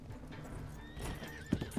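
Horses in the video game Red Dead give a long, wavering whinny, with a couple of louder hoof clops near the end, heard at moderate volume.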